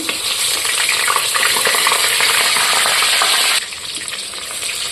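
Cabbage pieces frying two at a time in oil in a kadai, a loud steady sizzle and crackle that drops slightly in level near the end, with no talking.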